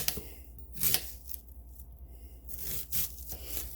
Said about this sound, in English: Just slice the onions like so.